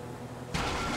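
A boat engine in the video game GTA V sputters and fails: quiet low rumble gives way to a sudden loud, broadband roaring rush that holds steady to the end, with no talk.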